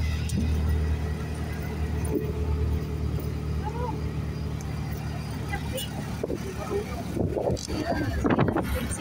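A tricycle crosses Panguil Bridge in the Philippines, its motor droning low and steady under wind buffeting the microphone, with people talking near the end.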